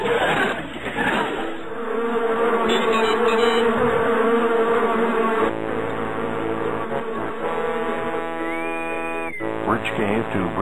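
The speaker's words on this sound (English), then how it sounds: "A swarm of bees from the planet's surface is intercepting the ship at this very moment." A dense insect-like buzzing swarm of bees in a comedic sci-fi production, droning continuously over layered music and sound effects, with a rising tone near the end.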